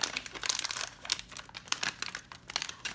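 Plastic wrapper of a Zomblings in the Town Series 1 mystery pack being snipped open with scissors, giving close, loud crinkling and crackling in irregular bursts with no talk.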